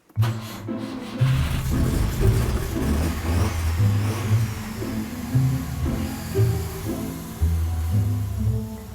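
A classic Sunbeam Talbot 90 engine cranks briefly, then catches and runs steadily for several seconds with periodic revs, loud and close, with no voices over it.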